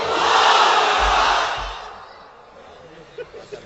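A large crowd of married men at an Islamic religious gathering shouts the takbir together in one loud, sustained mass roar that swells, holds for about two seconds, then fades into quieter murmuring and a few scattered noises.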